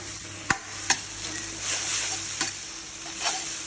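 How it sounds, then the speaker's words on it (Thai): Instant noodles are stir-fried with a mixed sauce in a pan: a steady hiss of sizzling with a few sharp clacks from the utensil against the pan, close up and without talk. "ตามด้วยน้ำซอสที่เราผสมไว้ ตั้งแต่แรกเลยนะครับอ่าใส่ลงไปเลยครับ จากนั้นผัดให้เข้ากันนะครับ"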